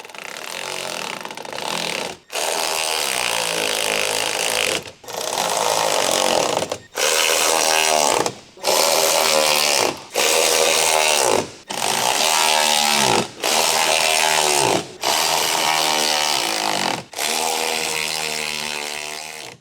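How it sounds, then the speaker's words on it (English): A medium electric impact wrench with a 12mm deep socket tightens the side step retaining bolts on a 3.5L Ford Explorer, hammering loudly and close in about nine sustained bursts with short gaps between them. "use the medium 12mm deep socket with the medium electric impact wrench to tighten them down"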